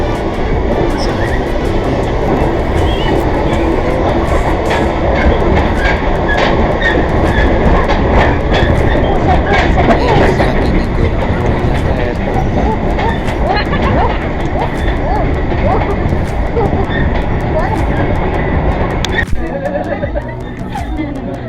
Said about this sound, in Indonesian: Ini KRL-nya mau naik ya, jadi mobilnya di bawah